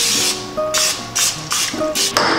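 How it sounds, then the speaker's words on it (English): Several short hissing bursts from a cooking spray can, each lasting a fraction of a second, close and fairly loud with brief pauses between. "Just hold it down in front of you like this and spray."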